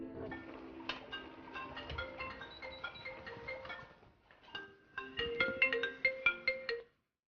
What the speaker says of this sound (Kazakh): Сөйтіп, Гүлсімге телефон шалады